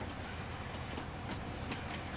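Train in Farming Simulator 19 rolling along with a steady loud rumble and rhythmic wheel clatter, faint squeals above, no talk.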